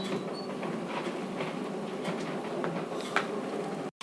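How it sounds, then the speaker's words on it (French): Motorized window shutters closing on a voice command to a Google Home, a continuous rolling mechanical rattle and hum with faint clicks, steady at moderate distance, cutting off abruptly at the end. "Ok Google, ferme les volets."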